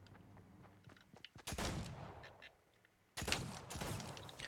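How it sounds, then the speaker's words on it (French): Pistol shots fired at an enemy in a video game, heard as two loud, sharp bursts a couple of seconds apart over a quieter game background, with no talking. "il y a un ennemi juste là, on va essayer de lui mettre une petite balle de pistolet."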